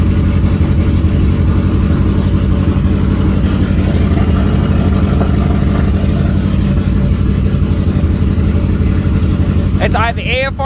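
A Subaru Forester with a forged STI engine swap idles steadily and loudly up close, a constant low rumbling drone, with a brief voice at the very end.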